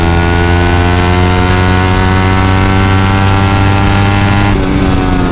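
Suzuki GSX-R150 motorcycle engine at high speed, a loud steady high-revving drone with strong harmonics held close and constant, dipping slightly near the end as the throttle eases.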